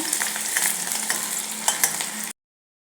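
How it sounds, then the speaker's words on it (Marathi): Half an onion sautés in hot oil in a kadai, giving a loud, crackling sizzle with a few scraping stirs, close by and alone, then cutting off abruptly. "तेल गरम झाल्यावर एक अर्धा कांदा त्याच्यामध्ये कट करून घालायचा आहे कांदा थोडा परतून घ्यायचा"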